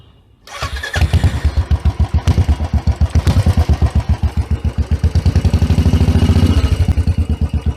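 Royal Enfield motorcycle engine running with the silencer removed, starting after a brief pause into a loud, close, rapid thumping exhaust beat that swells slightly in revs before settling, with no talk over it.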